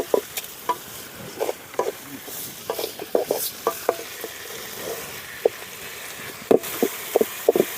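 Chopped tomatoes sauté in oil for a green moong dal curry, with a soft background sizzle broken by repeated spoon clinks and scrapes against the pan at an irregular pace.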